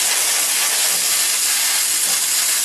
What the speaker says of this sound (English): as soon as I insert the milk into the wand, I'll start the timer going. So we've got the steam going.